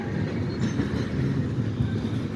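A GP switcher locomotive pulling a long string of tank cars, heard as a steady, moderately distant rumble of rolling wheels and rail noise, with no voices.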